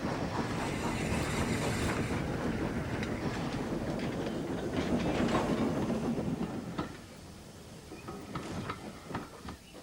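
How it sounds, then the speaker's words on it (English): A steam train rumbles steadily along the rails with rhythmic clattering, fairly close, then the noise drops away and fades toward the end. "Every day, Gordon's express train steamed in with a special coach for passengers travelling on Thomas's branch line."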